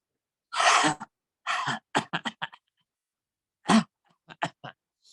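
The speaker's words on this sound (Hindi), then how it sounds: "थोड़ा सा खांस कर भी निकालिए, अच्छे से खांस कर।" A person coughs several times in short bursts during a yoga breathing exercise, a few forceful coughs followed by lighter ones, with silent gaps between.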